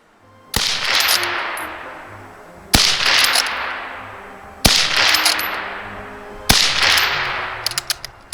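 An SMLE Mk III* rifle fires four loud, sharp shots roughly two seconds apart, each followed by a long echoing decay, with a few faint metallic clicks of the bolt at the end.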